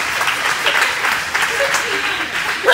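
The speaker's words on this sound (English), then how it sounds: "y'all give a round of applause for actress" Audience applause greets a guest actress and model introduced at a back-to-school motivational event, a loud dense wash of clapping under a speaking voice, briefly swelling near the end.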